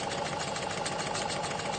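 A sewing machine stitches a pinked seam, its motor giving a steady, even mechanical hum with a fast rattling pulse that continues throughout at close range.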